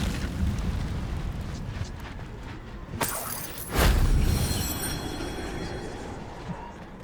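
A fiery burst from the Incendio spell in Hogwarts Legacy flares up suddenly around the three-second mark, over a steady rumbling game background, then a second louder whoosh swells and slowly fades.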